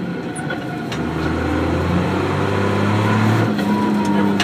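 A Mercedes Unimog's engine runs steadily while the truck plows snow, with a low, continuous drone that builds slightly partway through, and people talk over it.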